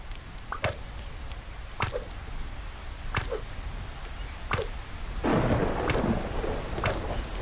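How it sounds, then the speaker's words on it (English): Steady rain falls in the video game Solarpunk, with a broad rumble of thunder rolling in near the end. Sharp, evenly spaced knocks also repeat about every second over the rain. "How does it always rain when I'm putting solar panels on my roof?"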